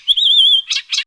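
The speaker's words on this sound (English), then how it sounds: "warbler," A warbler sings a sustained, slightly wavering high whistle, followed by two short buzzy trills, close and clear on its own.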